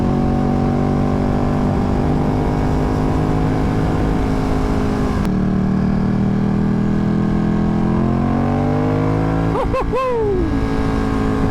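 Ducati XDiavel or Panigale motorcycle engine on a test ride, a loud steady drone with rising revs late on and a sharp throttle blip near the end, no voices.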